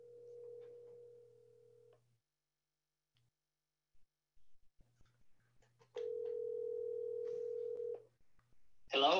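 A steady telephone dial tone hums, breaks off for a few scattered clicks and tones, then returns loud and continuous before a voice briefly starts.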